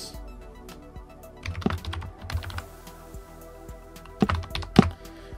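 Keys on a computer keyboard are tapped nearby in short, irregular clusters of clicks, with a few heavier thunks and quiet gaps between them.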